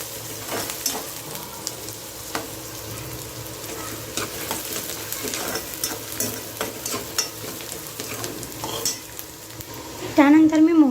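Sliced onions fry in a pan for a quick eggplant curry, with a steady close sizzle and repeated spoon-scraping stirs throughout and no talking.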